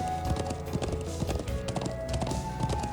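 Galloping horse hooves in the video game Trails of Cold Steel 2, a steady quick clip-clop rhythm close up over a game music bed, with no talk.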